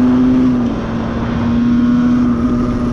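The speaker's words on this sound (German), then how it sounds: "Gebt euch diese Beschleunigung." An Aprilia scooter accelerates hard, a loud, close, steady engine drone with a strong buzzing tone that holds and rises slightly, heavy wind rumble underneath, no speech.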